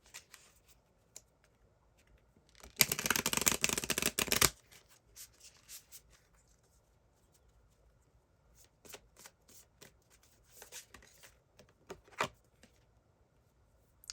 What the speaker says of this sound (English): Let's shuffle and draw a card